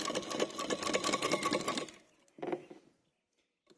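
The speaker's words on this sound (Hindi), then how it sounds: "देखिए ये है लब की सिलाई। बिल्कुल किनारे पे देनी है आपको लब की सिलाई" Sewing machine running a lub stitch along the fabric edge: a fast, close mechanical chatter for about two seconds, stopping, then a brief second burst before silence.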